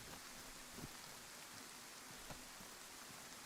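Rain falls steadily in DayZ, a faint, constant hiss of rain hitting surfaces with a few scattered louder drops and no speech.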